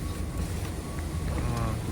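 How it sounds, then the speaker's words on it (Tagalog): Strong typhoon wind gusts steadily in a rainy outdoor spot near a ramen shop, a loud rushing roar across the whole clip with buffeting on the microphone. "Mahangin."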